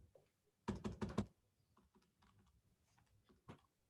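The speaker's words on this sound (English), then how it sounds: "then we type that into the calculator" Keys pressed on a calculator keypad while working a Coulomb's law physics problem: a quick cluster of several firm taps, then a few softer, sparser presses with one final tap, close and fairly quiet.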